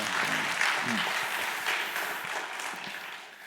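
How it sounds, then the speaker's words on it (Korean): A church congregation claps in encouragement during a service, a steady wash of applause with a few voices underneath, moderately loud and tapering off at the close. "우리 박수로 한번 격려해 주세요"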